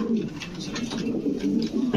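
Big-sized pet pigeons of king, beauty and Lahori breeds coo in low, throaty, repeated rolls close by, with soft rustling between the calls.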